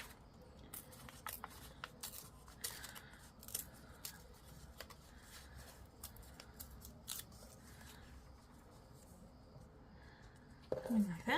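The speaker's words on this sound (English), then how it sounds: "Give it a snip." Scissors cut through paper during a scrap sewing and craft session, with a string of sharp, close snips at irregular intervals, soft rustling between them and a louder crunchy burst of handling at the end.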